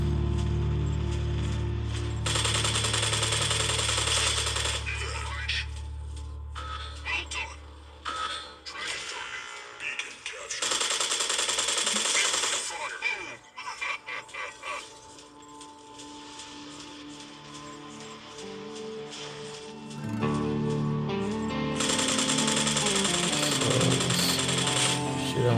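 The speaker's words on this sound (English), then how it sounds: "Shoot down with my machine gun." A mech's machine gun fires in the video game Mech Arena, loud sustained bursts of rapid mechanical rattling broken by short pauses, with several long volleys spread across the stretch and speech passing faintly between them.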